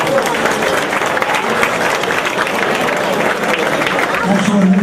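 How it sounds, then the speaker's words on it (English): A round of applause from a large audience at an award event, loud sustained clapping with crowd noise and murmured voices underneath, steady from start to finish. "I think that deserves a round of applause."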